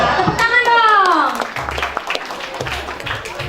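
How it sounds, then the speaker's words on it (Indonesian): An audience at a national ICT olympiad event claps hands in a short burst of applause. Children's voices rise over the start, then the clapping thins into scattered claps with a few voices. "Tepuk tangan dong."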